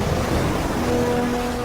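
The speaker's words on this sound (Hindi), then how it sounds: "भयानक लहरें किनारे की इस नर्सरी तक आ रही हैं" Heavy winter storm waves surge onto a shoreline beach nursery, a continuous roaring wash of surf without distinct breaks over a short span.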